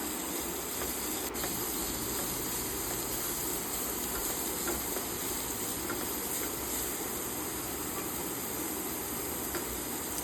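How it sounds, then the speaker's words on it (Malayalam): Chopped onion sautéing in a hot pan gives a dense, continuous hiss and sizzle at a constant close level for the whole stretch, with no voices. "രണ്ട് സെക്കൻഡ് വഴറ്റിയതിന് ശേഷം ഒരു സവാള അരഞ്ഞത് കൂടി ഇട്ട് കൊടുക്കാം"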